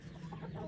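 A hen in a farm barn gives a short complaining cluck, close and fairly faint, lasting under a second.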